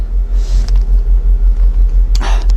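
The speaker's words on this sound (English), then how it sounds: "She's on gas now. So LPG up and running." A Ford Focus engine idles on LPG gas, giving a steady low rumble with an even pulsing throb. A couple of brief clicks sit over it near the end.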